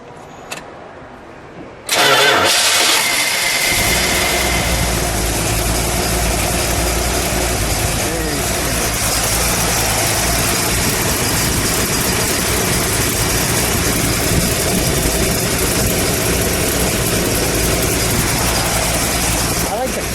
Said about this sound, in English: then we'll let it idle, and then we'll give it a rev